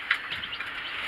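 Several white chicks cheep softly in quick, high, overlapping peeps, a faint steady twittering at close range with no talking.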